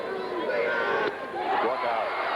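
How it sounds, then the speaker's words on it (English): Crowd murmur and chatter at a 1979 Indiana high school baseball championship game, a steady broad wash of voices heard from a distance, with a commentator's voice running over it. "But it's a good-sized crowd."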